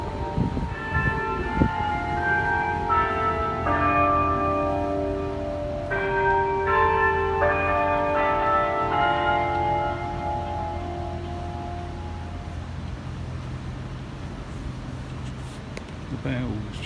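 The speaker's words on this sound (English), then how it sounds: "The bells chiming 9 o'clock." Church bells chime nine o'clock in a series of clear chimes, then fade into a lingering hum, with a voice speaking at times underneath.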